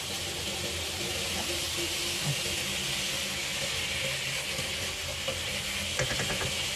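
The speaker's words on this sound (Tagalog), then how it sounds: "So lutuin lang natin yung patatas konti." Potatoes frying and being stirred in a pan for fresh lumpia, a steady close sizzle and hiss with occasional scraping, uninterrupted.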